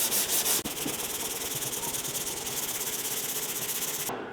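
Body filler on a car panel is sanded smooth by hand, a steady close rasping scrape that runs continuously after a brief pause near the start.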